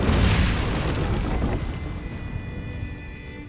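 A fire spell cast in the video game Hogwarts Legacy lets out a loud whooshing burst that booms at once, then trails off into a crackling roar over a few seconds, with no talk over it.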